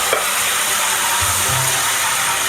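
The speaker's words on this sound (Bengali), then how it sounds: "জিরা বাটা, আদা বাটা, হলুদের গুঁড়ো আর আছে লবণ দিয়ে আমি একটু ভেজে নেব।" Cumin paste, ginger paste, turmeric powder and salt frying in a pan with water added, giving a loud, steady sizzle and hiss with a few low bubbling stirs and no talking.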